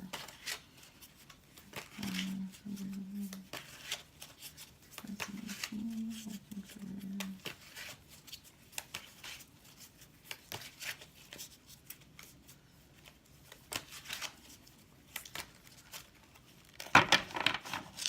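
A new Good Tarot deck being shuffled gives soft, intermittent riffles and card rustles, quiet and close, separated by pauses and a few light taps.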